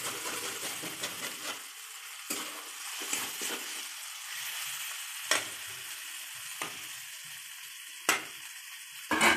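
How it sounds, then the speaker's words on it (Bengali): Potatoes fry with spices in hot oil, giving off a steady sizzle and crackle. Occasional sharper scrapes and knocks come from stirring the pan, and no one speaks. "আলুটা মশলার মধ্যে দিয়ে দেবে, নিয়ে ভালো করে কষিয়ে নেবে"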